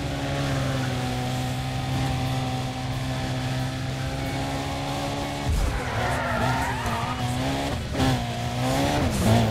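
Need for Speed Undercover street racing car, a steady loud engine drone carrying through the clip, then tires squealing and skidding in bursts toward the end as the car slides through turns.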